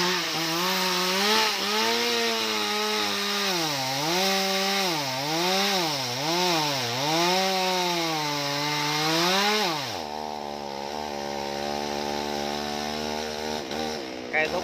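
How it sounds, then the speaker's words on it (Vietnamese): Chainsaw cutting into a young sugar palm trunk near a house, the engine revving and dipping in repeated surges as the blade bites, then settling to a lower steady idle-like drone, loud and close. "Chú mình chuẩn bị giật máy cưa nè các bạn ơi."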